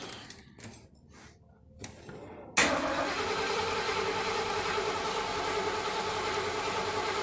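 A 1977 Mercury Marquis with a 400M V8 cranks during a compression test, a loud, even, rhythmic starter-driven chugging that begins abruptly after a few quiet seconds and continues steadily to the end.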